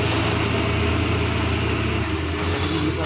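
A loaded truck engine roars loud and steady under heavy throttle, a deep sustained drone with a faint rhythmic pulse and no break, very close.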